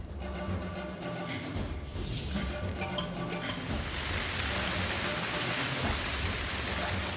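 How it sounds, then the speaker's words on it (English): Steady rain hisses down in the Quench video game, a dense, continuous wash of drops on surfaces that swells louder and brighter halfway through, with low rumbling underneath and no voices. "I just need to put rain on this."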